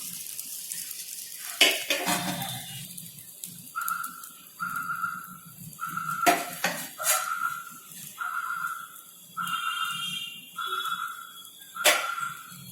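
Batter of foxtail millet and lentil adai with onion cooking on a pan. A soft sizzle runs under sharp clinks and scrapes of utensils against the pan, with a few short tonal whistle-like beeps repeating through the middle.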